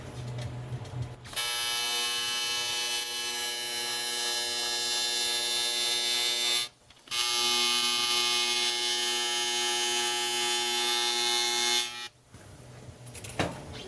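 An arc welder lays a bead on an aluminum hydraulic tank, giving a steady loud electric buzz with many tones that cuts out briefly near the middle and stops near the end. No talking is heard.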